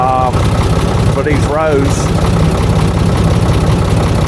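A tractor engine idles and chugs steadily at close range while mowing down corn stalks two rows at a time, a low rumble beneath someone talking.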